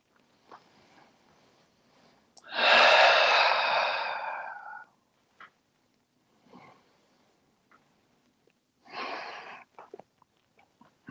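A slow, deep breath drawn during a supine yoga stretch, one long loud airy breath lasting a couple of seconds, then a quieter second breath later, with faint shuffles between and no talking.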